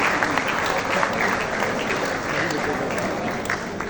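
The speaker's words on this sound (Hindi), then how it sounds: "आप सबकी जोरदार तालियों की गूंज में ना रुकने वाली तालियां उस्ताद गुलाम अब्बास खान के लिए" Loud, sustained applause from a large audience in an auditorium honoring Ustad Ghulam Abbas Khan, a dense continuous wash of clapping that fills the whole stretch without easing.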